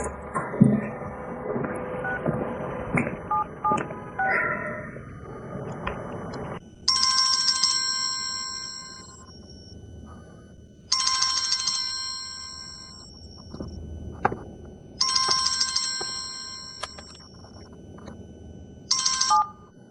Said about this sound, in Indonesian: Gimana kalau aku telepon Liu Lin?